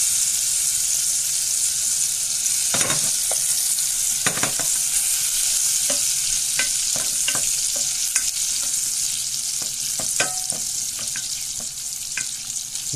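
Butter melting and sizzling in a saucepan as the base for a béchamel sauce for lasagne bolognese, a steady close crackling hiss with scattered sharp pops and stirring clicks throughout.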